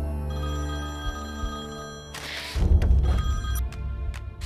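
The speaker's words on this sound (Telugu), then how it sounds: "ఫోన్ వైషు." A telephone rings in a Telugu movie scene, a steady electronic ring with repeated bursts, followed by louder rustling and movement noise, no speech.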